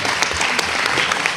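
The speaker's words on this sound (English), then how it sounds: "Can we please give a round of applause for Mark Sanchez and his family?" Dense, steady applause from an evening crowd gathered at a youth center event honoring Mark Sanchez and his family, continuous and fairly close throughout.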